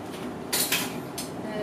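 A metal baking pan for banana bread is handled on a kitchen counter, giving two brief close clanks over a steady background hum.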